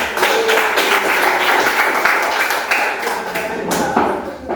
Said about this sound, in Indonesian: Oke, tepuk tangan untuk mereka dulu